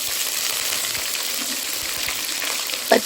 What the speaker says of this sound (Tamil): எண்ணெய் நல்லா காஞ்ச எண்ணெய், கடுகு நல்லா போட்டுட்டு அதிலே கருவேப்பிலை கொஞ்சம் போட்டு கட் பண்ணி வச்சிருக்கிற பச்சை மிளகா